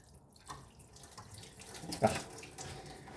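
Water poured into the engine radiator of a Ford Fiesta Mk1 during an engine repair, a faint trickling and splashing with one brief louder gush partway through.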